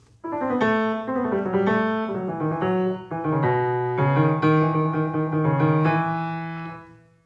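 Solo piano plays the countersubject of a Bach fugue from The Well-Tempered Clavier, with rapid, driving scales and trills in steady clear notes across the middle and upper range, no talking.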